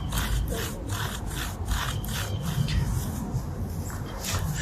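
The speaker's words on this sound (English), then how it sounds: "I'm trying to scrape at it pretty good, and it's making a little bit headway" Surface rust being scraped off metal produces repeated rough, rasping strokes in an uneven rhythm, loud and close, with no talking.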